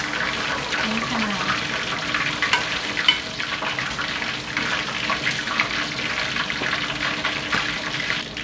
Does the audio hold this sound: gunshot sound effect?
no